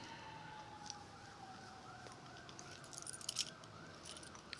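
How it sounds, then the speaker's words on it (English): Emergency sirens from a fire truck and ambulance wail in the distance, faint and wavering beneath steady outdoor background noise. "it sounds like the fire truck and ambulance is coming for us"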